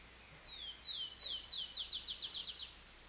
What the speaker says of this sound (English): I want to listen to that bird.